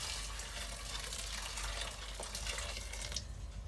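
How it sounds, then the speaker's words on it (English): Boiling water from a kettle pouring into a bowl of beef noodles, a steady close gushing splash that runs continuously with no break. "cover that with boiling water from the kettle"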